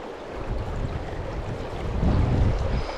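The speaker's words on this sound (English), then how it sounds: "This wind is something else" Strong wind buffeting the microphone beside a limestone stream, a continuous rough roar with low gusty thumps that swell toward the end, no voices.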